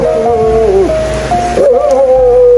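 A dog at a house sounds out nearby in the rain, loud tonal whines and yelping howls with wavering pitch, fairly sustained over a couple of seconds.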